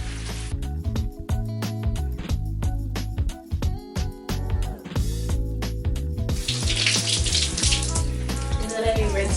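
Water runs from a tap while shampoo is rinsed out of curly hair, giving a steady hiss that is clearest in the second half, under background music.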